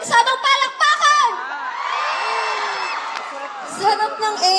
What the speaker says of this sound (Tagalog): isang hiyawan na may kasamang palakpakan!